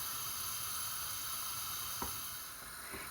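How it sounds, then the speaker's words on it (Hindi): Steady bubbling sizzle of milk simmering in a pan for rabri, a soft continuous hiss with a couple of faint clinks, no talking. "दूध को हमने इतनी देर तक पकाना है"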